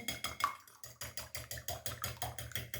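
Eggs being whisked in a bowl to loosen them for bread dough, quick regular tapping strokes repeating in a steady rhythm, close and fairly quiet.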